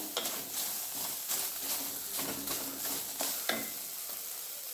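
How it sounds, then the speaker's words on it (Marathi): Sliced onion fries in hot oil in a pan on a gas stove for chicken dum biryani, with a steady close sizzle and a few sharper bursts and stirring scrapes throughout. "आता तो मस्तपैकी तळून घेते मी तेल टाकून।"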